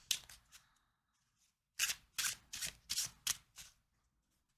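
An oracle card deck is shuffled by hand in a few quick riffles, then a rhythmic run of crisp, close bursts follows after a short pause.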